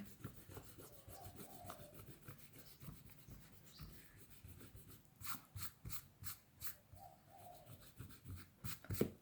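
Colored pencil strokes rubbing across paper while filling in a fashion figure drawing, close and soft, with repeated scratchy bursts of shading in an irregular rhythm, alone without talk.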